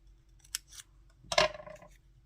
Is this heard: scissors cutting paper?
yes